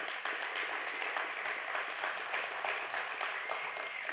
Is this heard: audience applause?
yes